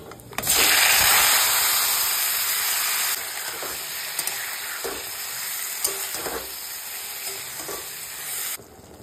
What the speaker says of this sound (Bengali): কেটে রাখা টমেটো গুলো দিয়ে দিচ্ছি।